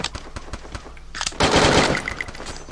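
Rapid automatic gunfire in a shooting video game crackles in close, dense bursts, swelling into a louder sustained volley midway before easing off, with no voices.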